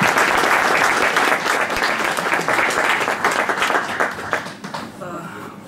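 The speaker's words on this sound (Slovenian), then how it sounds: "Zdaj pa še en aplavz za našega gosta." Warm audience applause for a guest author at a book event in Domžale library, thick and sustained from the start, then thinning and tapering off near the end.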